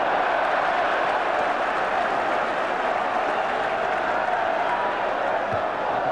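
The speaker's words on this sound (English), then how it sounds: "The goal has certainly woken up the crowd." A stadium crowd at the 1988 FA Cup quarter-final between Wimbledon and Watford roars and applauds after a goal, a loud, dense, continuous wash of cheering and clapping throughout.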